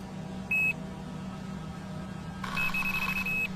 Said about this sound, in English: My two rods are each equipped with an electronic alarm, primed to go off if something makes a grab for the bait.